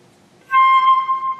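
A flute sounds a single sustained C above the staff, starting cleanly after a short silence and holding a bright, steady pitch with slight wavering, heard alone and close.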